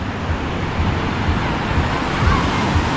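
Sea waves wash continuously onto a beach, making a dense, steady roar of surf with a slight swell near the end, mixed with some wind. No voices are heard.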